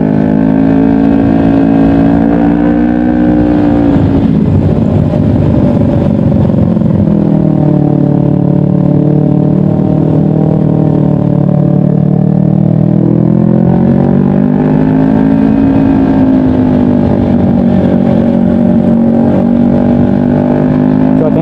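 A Kawasaki Ninja 250 FI fitted with a loud Pro Liner aftermarket exhaust revs up close, its engine note rising and falling in sustained swells before settling and climbing again, loud and alone.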